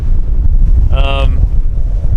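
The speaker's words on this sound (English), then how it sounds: "It's hard to really convey how windy it is, but it's pretty windy." Strong wind buffets the microphone at an outdoor dig where a gigantic duckbill dinosaur is being excavated in southern Wyoming, a loud, constant low roar broken by a brief voice-like tone.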